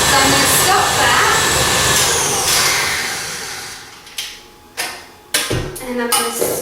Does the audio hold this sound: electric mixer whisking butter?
yes